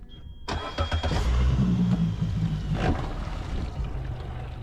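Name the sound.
RIB boat engine starting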